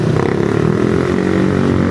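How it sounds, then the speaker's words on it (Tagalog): A motorcycle engine drones steadily and fairly loudly nearby, a continuous rumbling hum that holds even across the short stretch with no speech over it. "Ganda ng ano, tunog ng motor niya."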